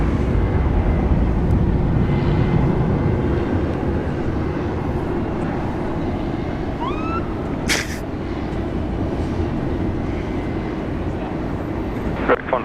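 An airliner powers up for takeoff on runway 16 right at Sydney Airport, a loud, sustained engine roar that stays steady throughout, with faint bird chirps and a brief sharp click partway through.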